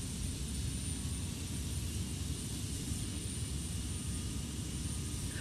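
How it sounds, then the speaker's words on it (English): Boeing 727 jet engines in Flight Simulator X while taxiing, a steady, loud, broadband roar with a high whine on top that holds constant throughout with no talk. "Parking brake off. Let's taxi on over to our runway."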